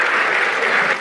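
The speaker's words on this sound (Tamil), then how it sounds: "அபிதா, ஒரு நிரம்ப ஒரு கைதட்டு கொடுத்து அவங்கள ஒரு சின்ன மகிழ்ச்சி." Audience at a Tamil pattimandram debate applauding, a dense, steady wash of clapping filling the whole moment at close range, with no voices on top.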